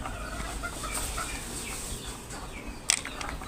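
Backyard chickens cluck and murmur at moderate distance in a warm, still yard, a scattered, continuous low-level flock chatter with one sharp click near the end.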